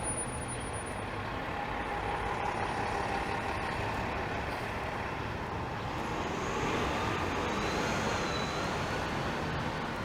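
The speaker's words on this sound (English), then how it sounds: "Here's an 11 bus." Toronto city bus on route 11 passing along a street, a low engine rumble with faint air-brake hiss amid steady traffic noise, heard from a sidewalk at moderate distance.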